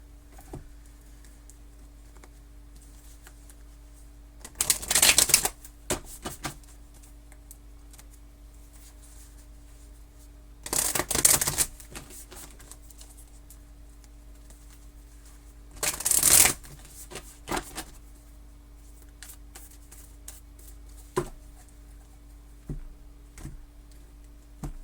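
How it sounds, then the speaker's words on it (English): Mystical Shaman oracle cards are shuffled in three short, crisp riffling bursts separated by quiet pauses, close and clear, with a few faint taps in between. "Pull you a Mystical Shaman card."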